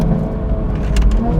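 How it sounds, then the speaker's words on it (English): Toyota Supra Mk5 fitted with a Supersprint downpipe and full Supersprint exhaust with Stage 2 tune, engine droning loud and steady with a deep throaty rumble, close by and alone. "we fit the Supersprint downpipe now with the full Supersprint exhaust. It sounds glorious."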